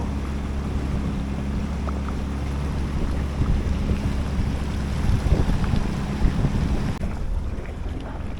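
A Yamaha FX SHO jet ski runs on a large lake, with a steady engine drone, water rush and heavy wind buffeting on the microphone throughout.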